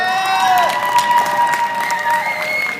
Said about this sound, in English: can everybody give you a round of applause for Christine and Hannah?